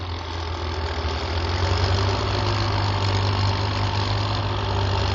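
A tractor engine idles at low revs, a steady low chugging drone close by, constant and unchanging throughout.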